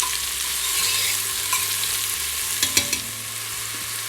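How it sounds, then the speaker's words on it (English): Mushrooms frying in a little oil in a pressure cooker pot give a loud, steady close sizzle, with a few sharp stirring clicks near the end and no talk. "Going to toss in my mushrooms."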